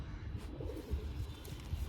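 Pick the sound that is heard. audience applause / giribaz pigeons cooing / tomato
giribaz pigeons cooing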